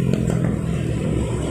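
A modified Vespa scooter engine revving hard on the throttle, a loud, rough, clattering roar that holds steady and close throughout.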